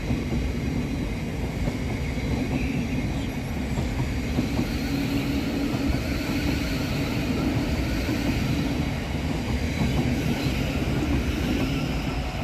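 A Class 387 electric train passes fast through Preston Park station with a loud, continuous rumble and clatter of wheels on rails that stays steady throughout, with no voices.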